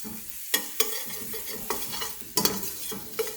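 Butternut squash soup vegetables such as onion and garlic caramelizing in a pan, with a steady close sizzle broken by several sharp stirring scrapes and clatters.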